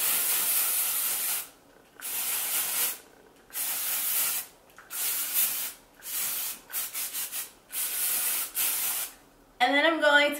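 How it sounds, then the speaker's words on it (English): Hairspray hisses from an aerosol can onto natural hair in a series of about seven close, steady bursts separated by brief pauses, and a voice briefly speaks at the end. "I'm gonna take the hairspray and set it into place"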